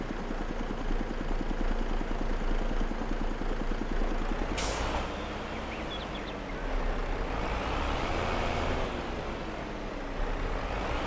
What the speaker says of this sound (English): like when it gets into an idle, the engine has like a little bit of a pop to it.